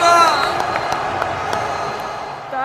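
A cricket crowd claps and cheers in a steady wash of noise, with scattered claps standing out, while a voice speaks over it at the start.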